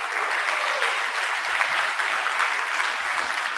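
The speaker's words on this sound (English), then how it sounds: "please give our panelists a big round of applause" A conference audience at a national parks panel gives the panelists a full round of applause, dense continuous clapping at even strength throughout.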